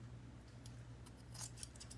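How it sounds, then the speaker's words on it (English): Good fabric scissors cutting a strip of material about two inches wide, with quiet crisp snips and a louder slicing snip near the middle, close up over a low background hum and no talk. "I'm gonna get my good scissors because it is material."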